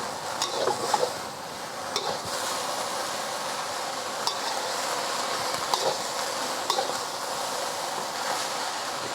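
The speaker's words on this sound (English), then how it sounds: "And let that fry for about a minute or two, just to get it a little bit crispy at the bottom." Chow mein noodles fry in oil in a pan with an even, continuous sizzle, broken by a few light scrapes and clicks from stirring.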